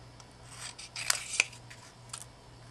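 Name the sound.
scissors cutting out a paper piece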